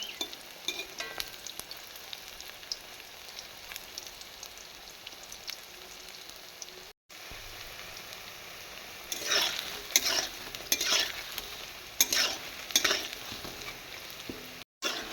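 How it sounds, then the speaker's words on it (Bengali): Cauliflower pakoras frying in oil make a continuous sizzle while they are turned over, with bursts of louder crackling and scraping in the second half and two brief drop-outs. "এগুলো এবার আমি লাল লাল করে এপিট উপিট করে ভেজে নেব"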